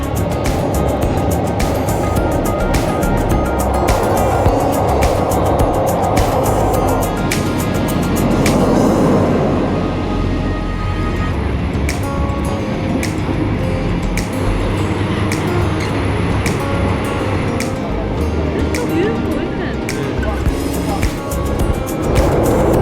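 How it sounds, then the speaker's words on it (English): Passenger train moving through Thailand, heard from inside a carriage cooled by fans rather than air conditioning: a steady, loud rolling rumble with rattling and clatter continuing throughout. "Okay, the train is moving."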